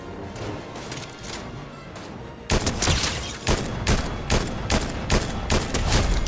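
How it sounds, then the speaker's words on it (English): Fortnite gunfire, a dense volley of rapid shots and booms that grows louder partway through into heavy repeated bursts, loud and close with no voices over it. "Did you shoot a Darth Vader?"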